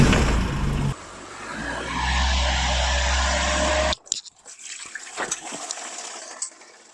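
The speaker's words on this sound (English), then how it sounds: "I'm going to try running some fresh water through it a couple of times to see if I can get a bulk of this out just with running the engine" Fresh water gushes loudly through the radiator of a barn-find TA22 Toyota Celica under rebuild while its engine runs, a steady rushing flow over low engine rumble for about four seconds before cutting to quiet scattered clatter.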